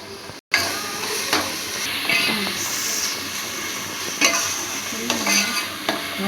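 Onion paste sizzles in a pan while a spoon scrapes and stirs it. The frying hiss stays close and steady, broken by repeated scraping strokes and a brief gap near the start.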